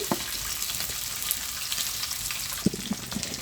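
A rohu fish head fries in oil with a faint, steady sizzle and a few soft clicks and scrapes of a utensil against the pan, heard close and without talking.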